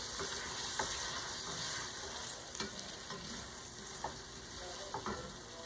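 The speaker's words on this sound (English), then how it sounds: "All right, the butter is melted. I'm gonna throw the potatoes and onions in here." Potatoes and onions sizzle steadily in melted butter in a pan, a continuous frying hiss broken by a few sharp scraping stir clicks spaced through the stretch, with no voices.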